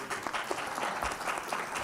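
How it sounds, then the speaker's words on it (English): Applause fills a conference hall at a regional event on special economic zones, a steady, dense clatter of many hands clapping throughout with no pauses. "this round of applause goes not only to the panelists"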